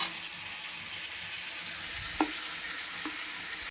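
Goat meat is stir-fried in a pan, giving a low continuous sizzle with a couple of distinct scraping stirs, close and fairly quiet, without speech.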